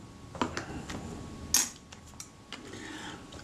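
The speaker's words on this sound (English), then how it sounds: "Remove my rewind knob." Removing the rewind knob from a Braun Paxette camera during repair gives a few faint, sparse mechanical clicks and small metallic ticks, with one sharper snap in the middle, against a quiet room.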